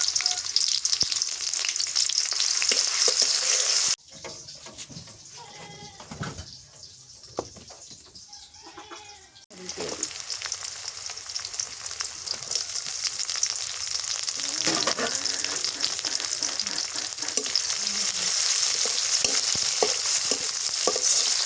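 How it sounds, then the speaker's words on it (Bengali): Panch phoron, the five-spice mix, frying in hot oil for a village-style fish curry, a loud, continuous crackling sizzle up close, broken by a few quieter seconds with stirring scrapes before the frying roar returns. "ফোড়ন দিয়ে দিই, মাছ আছে তো ওই জন্য পাঁচ ফোড়ন দিলাম।"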